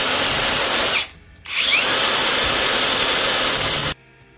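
A loud power tool cuts metal stock steadily, briefly stops and restarts, then runs again before cutting off abruptly, with a harsh grinding whine.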